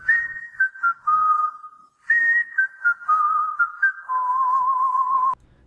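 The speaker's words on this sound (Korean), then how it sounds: "하이아 드래곤과 절친이 된 귀여운 오반이 전설의 휘파람 속 개인기를 보여줍니다" Someone whistles a wavering tune in clear, sliding notes, pausing briefly midway before carrying on, then stopping abruptly.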